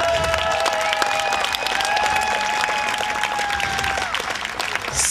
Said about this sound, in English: A standing applause for Ante.